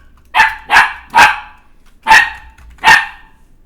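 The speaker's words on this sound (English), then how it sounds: "I'm sure there's no longer any reason to bark like that" A dog barks at a stainless steel bowl, giving five sharp, loud barks close by, the first three in quick succession and the last two after a short pause, with no talking.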